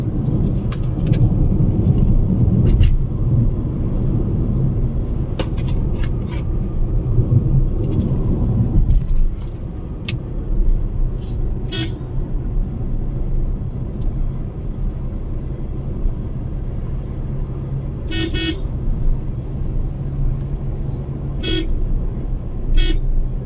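A Maruti Suzuki Ciaz car drives along with a steady low engine and road rumble, while faint horn toots sound intermittently in the distance.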